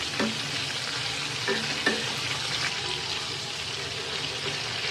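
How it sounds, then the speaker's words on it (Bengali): Karfu fish sizzles steadily in a pan of hot oil, with a few scraping stirs and clinks of the spatula over the constant frying hiss. "এখন আমি মাছগুলো ভেজে নিব।"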